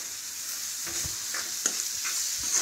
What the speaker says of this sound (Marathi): टमाटर सोडलेला आहे. दोन मिनटं आपण असंच परतू.